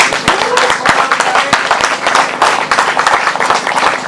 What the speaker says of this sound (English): I just think he deserves a huge round of applause